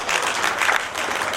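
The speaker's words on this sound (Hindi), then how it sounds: "तो मैं समझता हूँ एक बार जोरदार तालियां होनी चाहिए शोभा जी के लिए" Audience at an international human rights award ceremony applauds in a dense, steady wash of clapping that holds evenly throughout the short burst.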